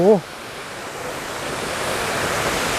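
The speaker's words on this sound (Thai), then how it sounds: "เป็นน้ำตกที่แบบผมต้องบอกเลยว่าพิเศษมากสำหรับผม" Tad Yuang waterfall near Pakse in southern Laos gives a constant broad rushing roar of falling water, opened by a brief vocal sound, and continues steadily with no other voices.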